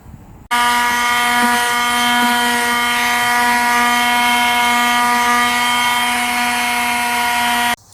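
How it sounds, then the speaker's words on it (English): A power sander runs on the edges of scrap wood, a loud steady whining drone that starts abruptly and holds evenly for about seven seconds before cutting off. "We're going to go ahead and get it sanded down nice and smooth and all that real quick, get all the rough edges."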